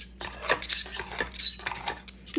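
Frozen fruit being chopped in a pan with a utensil while making chia jam: irregular metallic scrapes and clinks against the pan, close by, with short pauses between strokes.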